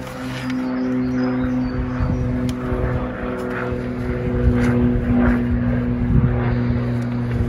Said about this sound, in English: I'll let the plane go over.